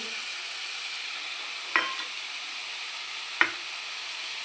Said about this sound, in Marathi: हे सर्व आपल्याला हलवून घ्यायचं आहे